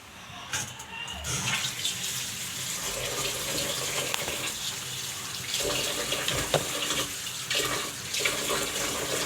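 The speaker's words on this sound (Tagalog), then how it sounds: "Tapos lagyan mo na naman siya ng tubig." Tap water running into a pot of rice for washing, a steady splashing stream that fills and swirls for several seconds, fairly close with some clatter.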